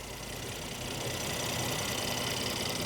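A Mercedes-AMG GLC 43 with a twin-turbo V6 and 4MATIC all-wheel drive idles with its hood open, giving a steady, even mechanical hum and faint ticking close by, with no voices.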